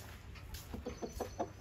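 Farmyard hens cluck in a quick run of short, rhythmic calls that build and grow louder toward the end, close by over a low background hum with no talking.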